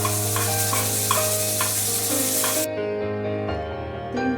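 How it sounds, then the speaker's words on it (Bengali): Whole spices lightly frying in a pan for Bihari mutton, a steady soft sizzle with intermittent stirring scrapes, close and continuous. "এগুলোকে আমি হালকা একটু ভেজে নিয়ে গুঁড়ো করে এর মধ্যে দেব।"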